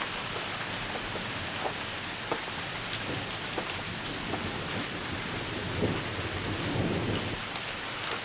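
A thunderstorm with steady rain, heard from inside an enclosed porch: a dense, constant hiss of rainfall with scattered droplet ticks and a low rumble of thunder swelling near the end, no voices.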